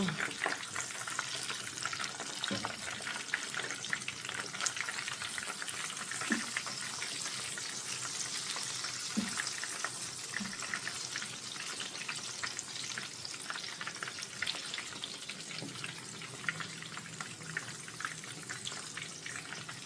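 Lahori fish fries in hot oil and is turned over to cook the other side, a steady dense crackling sizzle with scattered pops and utensil taps running throughout, nearby and unbroken.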